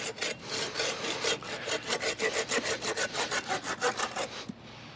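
A TelesPro extendable 12 ft tree trimmer saw cuts through wood in quick, steady back-and-forth strokes, about twenty rasping pulls close up before stopping abruptly.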